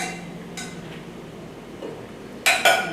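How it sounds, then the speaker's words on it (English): Dishes clink as a crayfish tail and curry are scooped onto a plate of khichdi, with two bright, close clatters near the end after soft, quiet handling. "I'm going to scoop a crayfish tail on the side, some curry."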